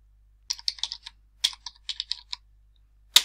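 Typing on a computer keyboard: two quick bursts of crisp, close key clicks in an uneven rhythm, separated by a pause and ending in a single louder keystroke, heard alone in a quiet room.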